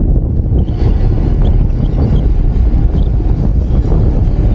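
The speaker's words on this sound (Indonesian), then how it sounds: "Angin kencang, headwind dari depan." Strong headwind blows hard into the microphone while riding past Circuit of the Americas, a loud continuous low-frequency rumble and buffeting with no voices.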